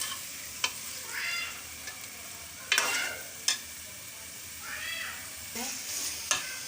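Green peas chutney with fresh coriander being mixed in a pan, a spoon scraping and knocking against the pan several times amid a faint sizzle, with cat-like meows audible in between.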